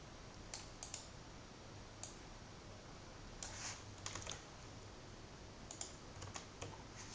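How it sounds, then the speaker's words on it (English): Sparse keystrokes and clicks tap on a computer keyboard while code is typed, faint and close over a quiet background, coming in small irregular clusters with gaps between them. "So let me type that in very quickly."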